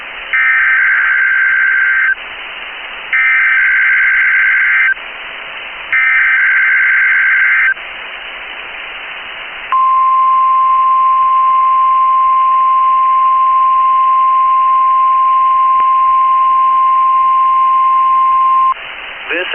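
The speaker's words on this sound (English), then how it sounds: "is a test of the NOAA weather radio warning alarm and EAS signal" NOAA Weather Radio warning alarm and Emergency Alert System signal during a required weekly test: three loud bursts of harsh digital data tones, then a long, steady, piercing single-pitch alert tone.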